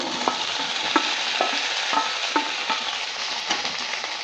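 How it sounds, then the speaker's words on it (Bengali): Squash and potato frying in a pan while being stirred, a steady close sizzle broken by regular scraping stirs roughly every half second, with no talking. "কোয়াশ আলুটা দেওয়ার পর ভালো করে আবারও রেঁধে নিচ্ছে"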